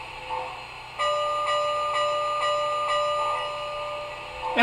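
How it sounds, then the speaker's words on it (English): A faint electronic bell on a model Great Northern Z6 Challenger locomotive rings steadily with a soft repeating ding over a low hum, quiet and close. "And here's the bell."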